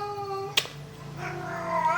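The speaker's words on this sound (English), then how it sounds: "Can you hear my cats in the background?" Pet cats, a tom and an older female, meow indoors: a drawn-out tonal meow, then a sharp click, then a second meow rising in pitch, with no talk.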